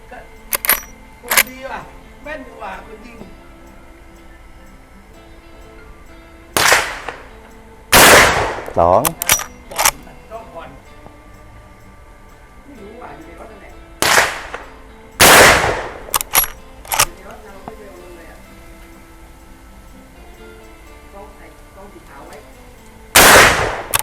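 Gunshots from a Marlin 1894 lever-action .44 Magnum rifle fired at a target about 20 meters away, several loud, sharp blasts spaced apart with metallic lever clicks and clatter between them and someone speaking in the pauses.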